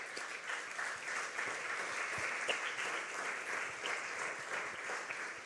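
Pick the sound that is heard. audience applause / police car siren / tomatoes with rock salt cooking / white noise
audience applause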